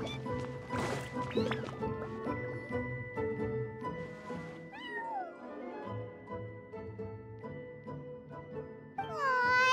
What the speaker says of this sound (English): that's a good kitty